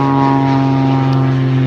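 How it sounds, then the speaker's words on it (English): A propeller airplane drones overhead above a suburban summer garden, a loud steady engine hum with sustained low tones throughout. "there's a plane passing through"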